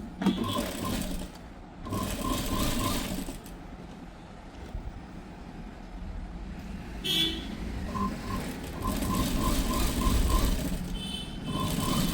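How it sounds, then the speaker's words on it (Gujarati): Close and loud, a sewing machine stitches a princess cut blouse, running in several bursts of rapid rhythmic clatter separated by short pauses, with no voices. "તો ચાલો પહેલાં હું સિલાઈ મારી લઉં."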